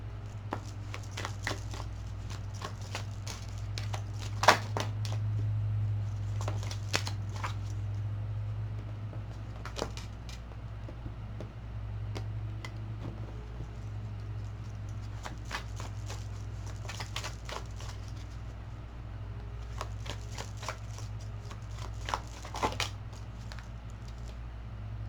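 Tarot cards handled and shuffled close up, with repeated papery riffles and soft flicking bursts coming in clusters, separated by quieter pauses over a low steady hum.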